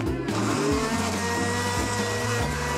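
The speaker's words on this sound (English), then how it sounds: "I'll put it in the blender." A blender whirs loudly and steadily, blending banana, kiwi and raspberries into a face mask mixture, its motor droning throughout with shifting pitch as the fruit breaks down.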